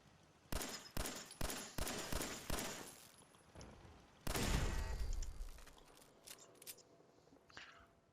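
Gunfire aimed at a turret in Fallout 4: a run of about six sharp, evenly spaced shots, a pause, then a heavier booming burst with trailing echo and a few scattered cracks.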